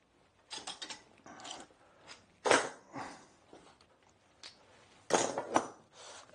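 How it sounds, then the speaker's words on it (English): Clamps being fitted and tightened onto glued wood for a saddle stand, a series of close, faint clicks, ratcheting and clattering handling noises at irregular intervals, with no talk. "So I'll get some clamps."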